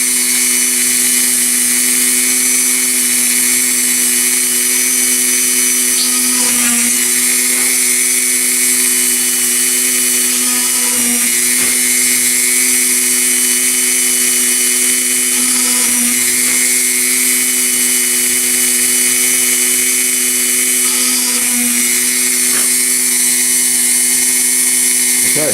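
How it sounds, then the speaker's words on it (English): A small benchtop drill press drills holes in a board, giving a steady, loud, high motor whine with brief dips in tone as each hole is bored. "I would strongly suggest you get a drill press like this"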